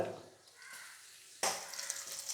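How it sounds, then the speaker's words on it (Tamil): Unpeeled garlic cloves sizzle and fry in a pan of hot oil. The sizzle is steady and soft, then swells sharply louder partway through. "பூண்டு நல்லா பொன்னிறமாக வறுத்துங்க"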